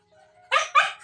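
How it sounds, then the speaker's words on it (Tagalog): A pet dog gives two loud, sharp barks close by, following a brief stretch of quiet indoor background. "Pasensya na kayo, maingay yung aso ko."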